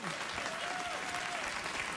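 Late-night TV studio audience applauding, a dense steady wash of clapping with a voice briefly speaking over it.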